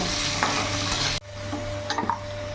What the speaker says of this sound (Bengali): আলুর মধ্যে লবণ আর হলুদ দিয়ে দেবো আলুগুলো লাল লাল করে ভেজে নেব